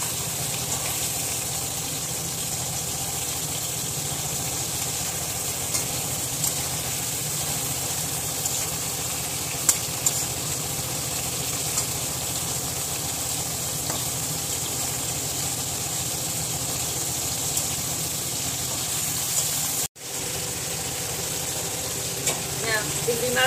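Tiger prawns frying in a pan, a dense continuous sizzle holding steady and loud throughout, with a brief cut near the end.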